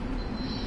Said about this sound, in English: the sound of this train is lovely